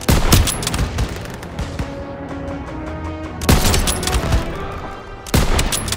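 A video game battle at a church courtyard is full of loud rapid gunfire: heavy machine-gun bursts and sharp booming shots in clusters, with a quieter rattle of firing between the louder volleys.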